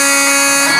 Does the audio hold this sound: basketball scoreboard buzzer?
yes